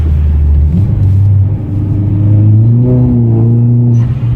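A 2010 Hyundai Genesis engine revs with a deep, loud close rumble, the pitch climbing and wavering unevenly as traction control cuts in.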